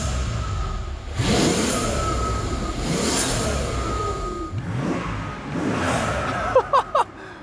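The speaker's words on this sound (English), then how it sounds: "With the new tune, it lets us rev it up higher in park or neutral, and we're getting a ton of more turbo sounds" A Mercedes CL65 AMG twin-turbo V12 revs repeatedly in park after a new tune, rising and falling in several loud bursts with turbo whoosh and whine, ending in a few short sharp blips.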